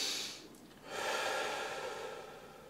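A deep breath taken close to the microphone during a guided heart meditation, a short airy intake followed by a longer, louder breath, with no talk over it.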